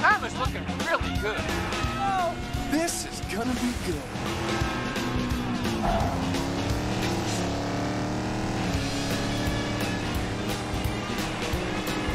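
A cartoon race car in the Disney Cars 3 video game skids and slides under a constant high-revving engine roar, with music and continuous chatter from a player layered over it.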